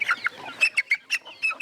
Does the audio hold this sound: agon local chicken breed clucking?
yes